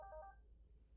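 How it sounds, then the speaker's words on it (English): An unmuted phone gives a short electronic tone, a quick beep or two at the start that fades into quiet room hum, close and faint. "I keep forgetting to mute my phone."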